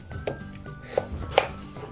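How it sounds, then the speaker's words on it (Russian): A knife chops potatoes on a cutting board in several sharp, uneven strikes, close and clear against a quiet kitchen background. "Картофан нарезаем сразу на те кусочки, которые у нас будут в нашей запеканке."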